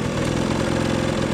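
A freshly repaired scooter engine idles close by, a steady, fairly loud buzzing putter with an even pulsing rhythm throughout.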